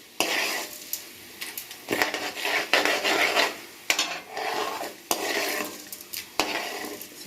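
Rava roasts in a pan under repeated stirring, with rhythmic scraping strokes of a spoon against the metal over a dry, crackling sizzle, close and fairly loud.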